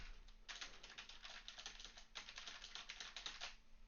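Fingers tap on a membrane computer keyboard in a quick, uneven run of soft, muffled keystrokes with a brief pause midway, faint and picked up through a SteelSeries Arctis Pro Wireless headset microphone.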